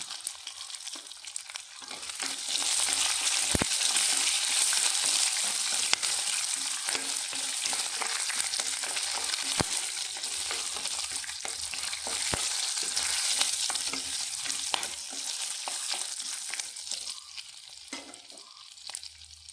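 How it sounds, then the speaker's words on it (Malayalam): Green chillies sizzle and crackle steadily in hot oil while being stirred in a pan, tempering for curd rice, with occasional scraping and clinking of the spoon close by. "ഇനി നമുക്ക് മുളകിട്ട് കൊടുക്കാം"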